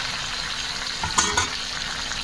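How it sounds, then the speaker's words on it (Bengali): Marinated meat for biryani going into a pan of fried onions, a steady hot sizzle with a brief louder burst and stirring clatter as the meat hits the oil, close and alone. "এবার আমি মাংসটি আস্তে আস্তে এর মধ্যে দিয়ে দেবো।"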